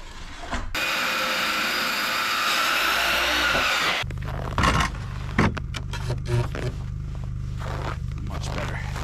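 A saw rips a thin strip, about 5/8 inch, off the bottom edges of wooden boards for a snowmobile ramp, cutting loudly for about three seconds before winding down into softer handling noises.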